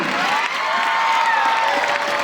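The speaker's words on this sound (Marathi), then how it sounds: "त्यांच्यासाठी जरा जोरदार टाळ्या होऊ देत बरं का" Audience at a student guidance talk clapping and cheering for a guest, a loud, dense wash of crowd noise with shouts and whoops throughout.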